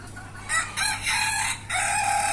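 Native desi chickens on a small farm, a rooster crowing loudly and close in several bursts with hens clucking around it, no talk.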